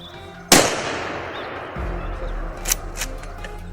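A single sharp, loud rifle shot aimed at a wild boar cracks out and trails off into a long fading echo, followed by a low rumble and a few faint sounds afterward.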